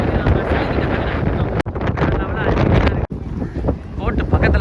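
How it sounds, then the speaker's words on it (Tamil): Sandy seaside wind at Kanyakumari blasts loudly and steadily, with gusting buffets and two brief sharp dropouts, while a voice speaks faintly beneath it. "அந்த மணல் காற்று பார்த்தீங்கன்னா அடிக்குதுங்க"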